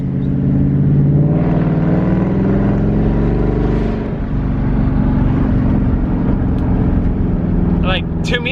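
A salvage Maserati GranTurismo S engine roars loudly close by, climbing in pitch through a long rev, easing off, then rising again, with a brief high squeal near the end.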